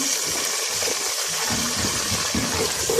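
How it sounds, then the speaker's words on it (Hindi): Water gushes steadily into a pan, a continuous broadband rush with some low bubbling underneath, fairly loud and close. "थोड़ा सा पानी डालूँगी"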